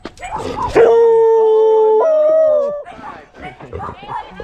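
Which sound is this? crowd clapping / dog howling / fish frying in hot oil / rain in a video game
dog howling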